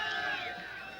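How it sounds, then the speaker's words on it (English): Distant crowd cheering for a commando team at a tense public standoff, a broad, steady roar of voices heard faintly in the background for about a second. "That cheering that you hear is for the Delta Commando team"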